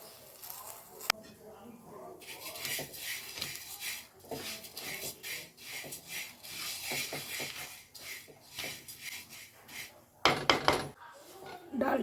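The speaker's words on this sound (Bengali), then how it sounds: "ডালটা ভেজে নিচ্ছি।" Moong dal dry-roasting in a pan for khichdi, grains rattling and scraping as a spatula stirs them against the metal in repeated strokes, with a few louder clanks near the end.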